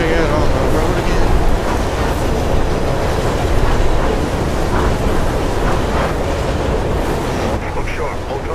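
A train ride in the video game Mirror's Edge gives a loud, continuous rumbling roar with rhythmic clattering and rushing noise, close and steady throughout.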